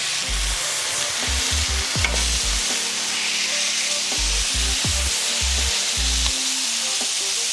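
A seasoned burger patty for a homemade Wendy's Baconator fries on a hot cooking surface outdoors in a yard, giving a steady close sizzle broken by occasional scraping and tapping clicks, with no talking.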